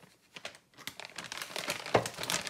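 Plastic bag crinkling while a Kraken Vekta 5 LSE 1:5 scale kit is unboxed, close and rustling in irregular bursts that grow busier toward the end, with no talk.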